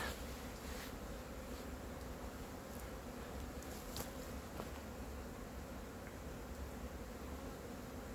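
Swarm of Korean native honeybees buzzing continuously at a bait hive during natural swarming season, a dense steady drone with a few louder bees passing close by, no talking.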